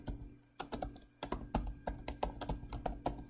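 Close, crisp keystrokes on a computer keyboard as a form is filled in, tapping in quick irregular bursts with brief pauses between words.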